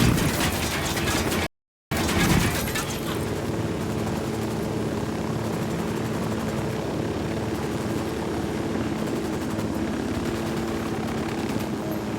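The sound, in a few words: helicopter in the video game Ghost Recon Wildlands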